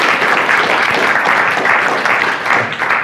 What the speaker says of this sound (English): I do want to give our panelists a round of applause here